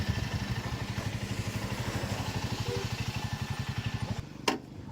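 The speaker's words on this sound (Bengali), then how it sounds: "বাইকের সাউন্ডটা পুরোটাই চেঞ্জ হয়ে গেছে।" Motorcycle engine ticking over at idle during a rainy-day bike ride from Coochbehar toward Kalimpong, a steady close rhythmic chug for about four seconds before dropping abruptly to a quieter hum.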